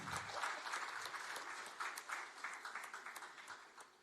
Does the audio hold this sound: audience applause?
yes